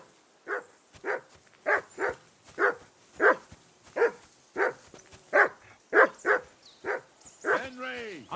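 A dog barks repeatedly in a medieval village scene of Kingdom Come: Deliverance 2, about fourteen sharp, evenly spaced barks, fairly close, with a short whine at the end.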